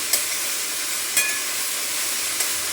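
Onion sautés in a pan for matar paneer masala, a steady bright sizzle with a few soft scrapes of stirring.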